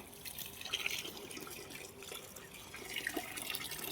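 Rice being washed by hand in water for homemade pitha, with steady running and sloshing water and small splashes, close and alone with no talking.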